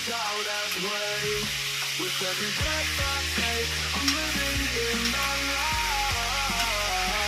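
Pieces of food fry in hot oil with a steady, close sizzle, broken by scraping stirs and thuds as pieces are turned over; no one speaks.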